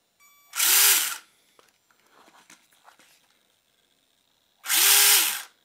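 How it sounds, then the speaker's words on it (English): An RC all-terrain monster truck's electric motor spins the wheels up in two loud high-pitched whirring bursts, separated by quieter clicks and rattles of the toy. "I can feel just how strong that motor is spinning up those wheels."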